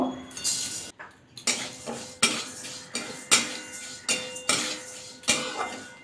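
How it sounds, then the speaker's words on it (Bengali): Moong dal dry-roasts in a kadai while a metal spoon scrapes and clatters against the pan in a steady rhythm, roughly one stroke every half second, close and clear. "নাড়াচাড়া করে হালকা করে ভাজা করে নিতে হবে।"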